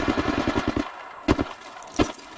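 Bursts of automatic gunfire in the video game Apex Legends: a rapid string of about eight loud shots, a pause, then two more separate short volleys, close and sharp with no talking.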